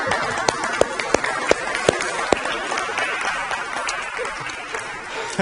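A congregation at a church service applauds the preaching minister, a steady wash of many hands clapping with a few sharper claps standing out, continuing throughout at moderate loudness.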